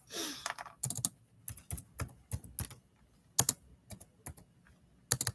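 Typing on a computer keyboard during a live jewelry auction stream: irregular bursts of close, crisp keystrokes with short pauses between clusters, and no talking.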